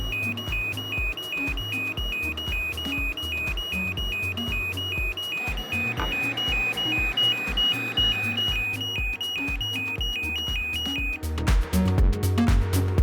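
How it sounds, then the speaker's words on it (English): A Dräger X-plore 8300 PAPR blower alarm, triggered by covering the breathing hose, sounds as a steady repeating electronic beep over the blower's hum, then cuts off near the end. "An audible and visual alarm will then be triggered."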